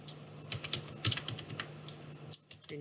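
Keyboard typing on a computer while writing CSS code: a steady run of soft, close keystrokes in an irregular rhythm, quiet and alone with no talking.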